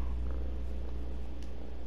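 A cat purrs in the horror game The Evil Within, a low, steady rumbling purr close up, continuous for the whole short stretch with faint background ambience.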